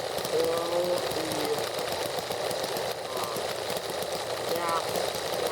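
Two small engines linked by a belt run together nearby, giving a steady, loud mechanical drone with a fast buzzing rattle that holds constant throughout.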